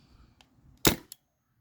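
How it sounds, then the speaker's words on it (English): A Spyder Rodeo paintball marker fires a single sharp shot of a 3.6 gram nylon ball after a velocity increase, one close loud pop with a faint short click just after, otherwise quiet. "I turned up the velocity again right now, and I'll shoot"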